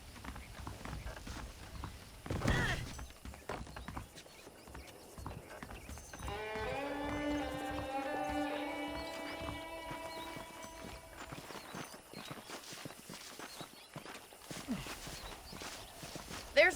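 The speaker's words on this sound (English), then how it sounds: "The horses are saddled up over here." Horse hooves clip-clop at a steady walking pace in the Red Dead Redemption video game, under a sustained musical chord and background game ambience, with a sharp louder hit early on.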